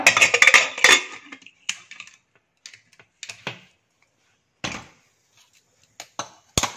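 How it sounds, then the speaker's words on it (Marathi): A pressure cooker holding tondali, jaggery, coriander and water gets its lid fitted, heard as sharp close metallic clicks and clanks in separate bursts with quiet gaps between them. "कुकरचं झाकण लावूया."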